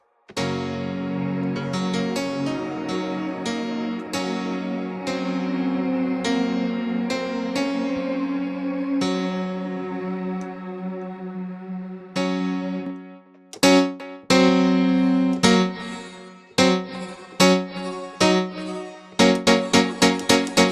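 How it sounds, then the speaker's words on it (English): Synthesized tones ring out into a long, shimmering wash of reverb, then shorter stabs repeat with tails that linger and fade. "it's a sound designer's dream reverb"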